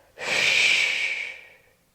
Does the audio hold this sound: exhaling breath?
yes